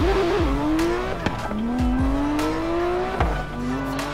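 A sports car engine in Forza Horizon 3 roars close up, its pitch climbing and dropping through quick gear shifts, with sharp tire squeals along the way.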